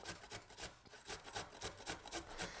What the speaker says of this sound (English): I'm gonna grate the ginger and the garlic.